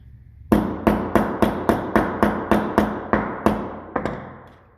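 A hammer taps a metal test strip before it goes into a vise, about a dozen loud, evenly spaced ringing strikes in a steady rhythm, close by and with no talk.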